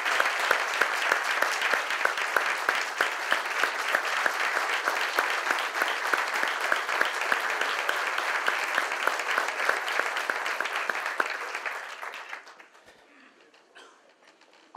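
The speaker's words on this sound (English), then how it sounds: "let's give him a big round of applause." A city audience at a State of the City address in Federal Way bursts into sustained, dense applause that carries steadily for about twelve seconds before thinning out to scattered claps and quiet.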